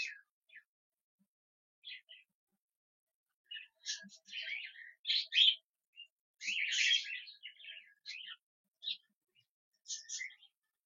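Cockatiels, including lutinos, give short, bright chirps and calls while they feed. The calls come in scattered bursts, some overlapping and fairly close, against an otherwise quiet background.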